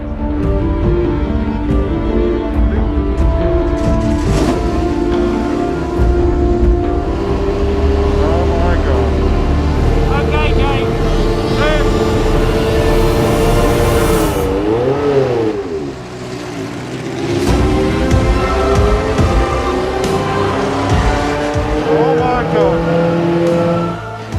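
Racing car lapping the Monza circuit, its engine roaring near and loud, revving up and down through gear changes, with a pronounced dip and rise partway as it slows and accelerates again.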